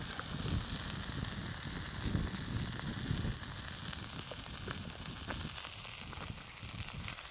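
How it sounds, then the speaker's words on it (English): Chicken wings sizzle and crackle steadily on a hot griddle, a constant close hiss with small pops throughout. "as crisping up on this griddle"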